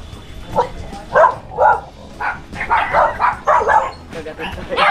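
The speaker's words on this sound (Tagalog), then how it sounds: "Ayan, may asong malaki" A big dog barks repeatedly near a house along a pathway, a string of deep, loud woofs in uneven bursts, with a person speaking over some of them.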